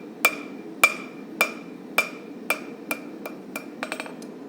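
A hammer forges the bevel of a railroad spike knife over the horn of an anvil, with a steady series of bright, ringing metallic strikes about half a second apart that speed up into a quick cluster at the end.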